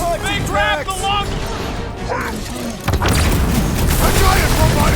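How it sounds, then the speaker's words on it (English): A giant robot stumbles and crashes in the Guardians of the Galaxy video game, with loud booming impacts and a heavy rumbling crash building near the end, while voices talk over the action throughout. "A giant robot is stumbling!"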